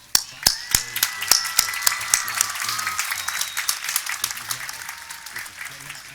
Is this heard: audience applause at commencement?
yes